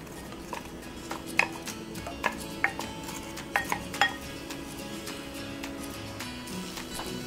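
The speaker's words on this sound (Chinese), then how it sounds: "我们要把它炒稍微透明，翻一下" Onions stir-fry in hot oil in a pan, with a soft steady sizzle underneath. A spatula scrapes and clinks against the pan several times, in scattered metallic taps.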